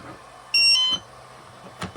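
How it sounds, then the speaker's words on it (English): A Spektrum smart battery checker gives a short high electronic beep once, brief and clear against a quiet room, followed by faint handling noises. "As you heard that beep."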